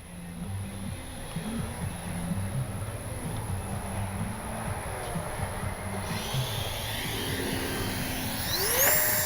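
A Freewing Banshee RC sport jet flies overhead with a steady airy ducted-fan whine and hiss that swells toward the end as it passes closer.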